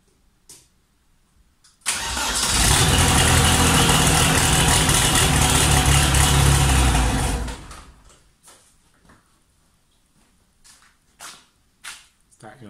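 A VW T25 van engine started on the key catches suddenly and runs loud and rough for about five seconds before cutting off, with quiet knocks and someone talking around it.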